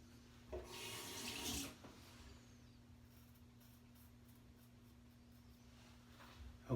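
A bathroom tap gushes briefly for a quick face rinse after a straight-razor shave, a faint splashing stream for about a second over a steady low hum, then quiet.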